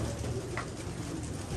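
Pigeons, including Chinese and golden pigeons kept on a rooftop, coo softly and continuously over a steady low background hum, with no talking.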